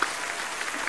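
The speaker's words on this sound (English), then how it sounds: "Thank you for clapping for me." Audience applause at a New Year's Eve stage show, a steady dense wash of many hands clapping close by, even in loudness throughout, with no voices over it.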